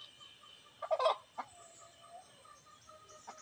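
A chicken gives a few brief, fairly faint clucks close together, then one more short cluck, in an otherwise quiet outdoor setting.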